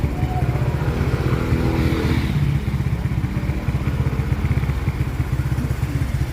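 A Honda XRM 125 motorcycle engine idles with a steady, low chugging rumble that stays close and loud throughout.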